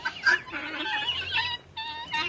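Close, loud chicken clucking in quick bursts, harsh and warbling, with a short pause near the end; no people speaking.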